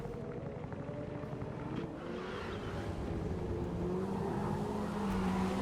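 Race cars on track in a racing sim video game endurance race, a steady low engine drone with a faint pass-by whine rising near the end, distant and continuous.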